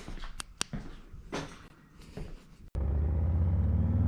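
A Harley FXLR/S motorcycle, first some faint clicks and handling noises, then its engine suddenly cuts in as a loud, steady, close low rumble that holds to the end.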